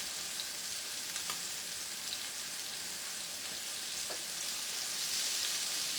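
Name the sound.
flour and meat cooking in a pan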